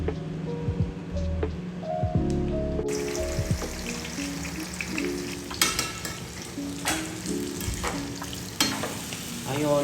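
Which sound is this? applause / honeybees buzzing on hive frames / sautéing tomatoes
sautéing tomatoes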